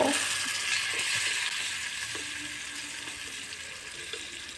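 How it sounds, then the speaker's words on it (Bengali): Chopped garlic fries in oil in a small pan in a miniature kitchen, giving a steady, close sizzle and crackle that stays even throughout with no voices. "রসুনগুলো দেওয়া হয়ে যাওয়ার পর রসুনগুলো কিছুক্ষণ ভালো করে ভেজে নেবো যাতে রসুনের কাঁচা গন্ধ না বের হয়"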